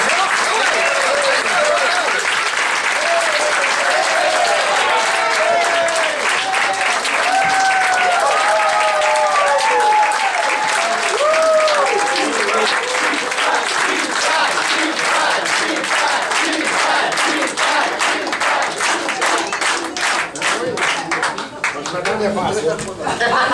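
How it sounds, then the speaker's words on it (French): Sustained applause from an audience welcoming a candidate at a political meeting in Hochelaga: loud, dense clapping with some cheering, steady for over twenty seconds before thinning out. "Alors, une belle main d'applaudissements pour"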